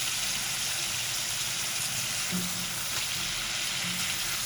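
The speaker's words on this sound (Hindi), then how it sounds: "मसाले के साथ हमारे चिकन को पकते हुए" Butter chicken cooks with spices in a karahi, a dense, constant sizzle and crackle close by with a couple of faint stirring touches, no talking.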